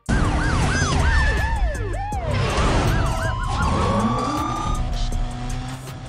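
Several police car sirens wailing and yelping together in Need for Speed Undercover, loud and close over revving car engines and road noise, with overlapping tones sweeping throughout.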